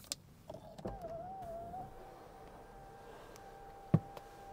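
The electric dual pane sunroof of a KIA EV9 Land AWD motors open with a faint whirring whine inside the quiet cabin, followed later by a single soft thunk.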